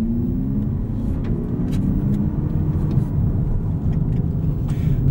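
Low, steady synthetic engine drone from the active sound control in a 2023 Lexus UX 250h F Sport hybrid while driving, a continuous rumbling hum with faint road noise and no distinct revving.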